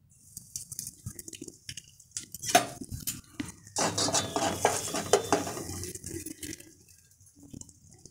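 Asafoetida dropped into hot mustard oil in a small bowl over a gas flame, heard as brief scraping and clinking of a utensil followed by a close burst of sizzling and stirring that fades back down, no talking.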